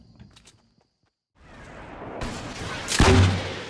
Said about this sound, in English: Why would he keep firing at the metal?